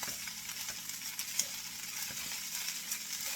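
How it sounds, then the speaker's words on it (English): Food stirred in a pan on the stove for a budget casserole with rice, giving a steady sizzling, scraping hiss with a few soft clinks, close and even throughout. "So let's get this stirred up so I can put the egg and all that in there."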